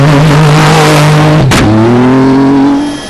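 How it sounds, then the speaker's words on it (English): A ProDrive Hunter rally raid car launching from the Dakar 2024 start line, its engine roaring loud and close in a sustained rising drone, with a sharp gear-shift break midway before the pitch climbs again and fades slightly. "Blasting away in his new ProDrive Hunter"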